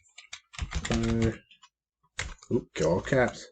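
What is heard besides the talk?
typing on a computer keyboard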